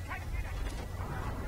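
Dogs barking and yelping in the Battlefield 1 single-player campaign, close and excited over dense battlefield rumble, with voices mixed in.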